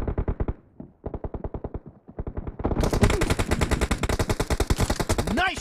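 Rapid bursts of gunfire from the M24 sniper rifle in the PUBG Mobile game, loud and close, with sharp repeated reports and a brief gap before a denser, brighter volley.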